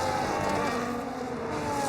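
An F1 race car screams down the straight at the Hungarian Grand Prix in the F1 25 video game, with a steady, loud, high-revving engine whine running throughout.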